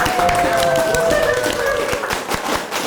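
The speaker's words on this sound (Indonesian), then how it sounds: "Kita berikan tepuk tangan buat teman-teman." Studio guests clapping after a podcast recording at a radio station office, a short burst of scattered hand claps close by over a background hum, fading slightly toward the end.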